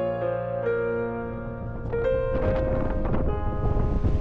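Wind buffets the microphone atop a tower in Oxford, a steady rushing roar that runs the whole time beneath tonal hums.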